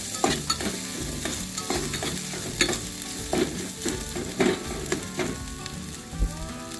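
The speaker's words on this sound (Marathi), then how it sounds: "मंद आचेवर मैत्रिणींनो हे भाजून घ्यायचं." Fasting flour roasts in a pan over a low flame while a spoon stirs it, giving a soft steady sizzle broken by regular scraping strokes against the pan, close and without talk.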